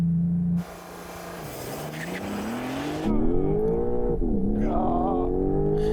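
A sports car launches hard with stability control switched off, its engine revving up in a rising, continuous roar with gear changes, loud and close, with a brief tire squeal.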